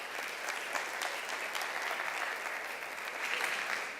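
Applause from a conference audience at an education congress welcomes Alex to the stage, a dense, continuous wash of clapping at a steady, moderately loud level.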